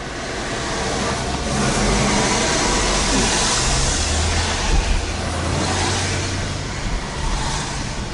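A 2004 Honda Accord driving and shifting through gears, a steady engine and road rumble mixed with broad cabin noise, the pitch swelling and easing as speed changes, moderately loud and unbroken.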